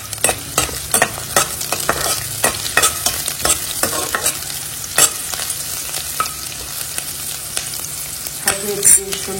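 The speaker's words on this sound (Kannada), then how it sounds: "ಇವಾಗ ಇದಕ್ಕೆ ಈರುಳ್ಳಿಯನ್ನು ಹಾಕೊಳ್ತಾ ಇದ್ದೀನಿ. ಎಣ್ಣೆ ಸ್ವಲ್ಪ ಬಿಸಿ ಆದ್ಮೇಲೆ" Onions frying in hot oil in a pan, a close, bright sizzle punctuated by frequent sharp scraping stir strokes at an irregular rhythm, no talking.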